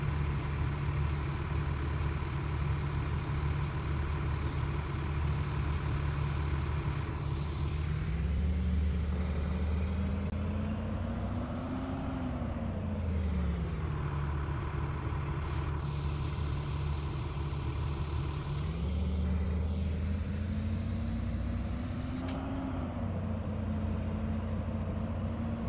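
A school bus engine idles steadily in Rigs of Rods after starting. Its low rumble holds constant, with a couple of brief revs that rise and fall in pitch.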